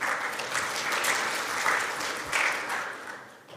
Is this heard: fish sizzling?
no